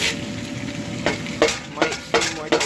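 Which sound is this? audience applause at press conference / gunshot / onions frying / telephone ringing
onions frying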